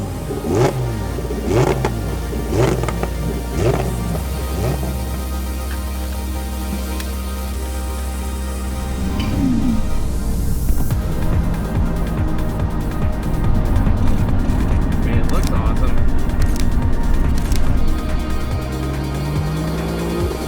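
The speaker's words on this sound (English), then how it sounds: "The sound of naturally aspirated engines in the morning." Naturally aspirated car engines, including a Lamborghini, rev and accelerate on a frozen lake with rising and falling pitch, loud and close, several passes blending into a continuous roar with no talking.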